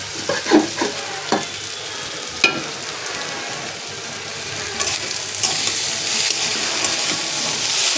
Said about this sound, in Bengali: সব মশলা দিয়ে দিলাম। মশলাটি কষাইতেছি।